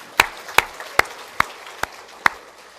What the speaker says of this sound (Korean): 두 번 한 사람에게 박수.